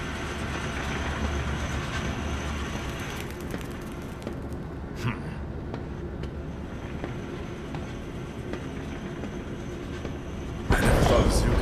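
Train in the Zoochosis video game rumbles steadily throughout at moderate level, with a louder burst near the end.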